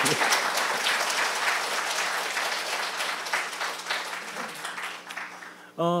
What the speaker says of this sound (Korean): 박수 한번 더 치시죠